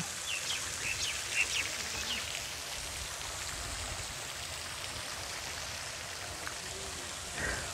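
Steady rain falls at Swapnapuri Park in Dinajpur, a soft continuous patter and hiss with a few faint distant chirps over it.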